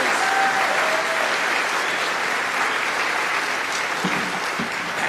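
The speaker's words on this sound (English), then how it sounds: "Give Rowan, a first-time speaker, a big round of applause" Audience applause for a first-time speaker at a security talk, a dense, steady wash of clapping filling the room throughout, with a brief cheer-like voice near the end.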